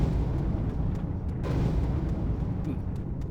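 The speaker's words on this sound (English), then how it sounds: "And the dramatic cannon shake." A heavy, rumbling cannon blast shakes the scene in the video game Anarchy Online, a dense, sustained low roar with a sharper burst midway through, loud and continuous.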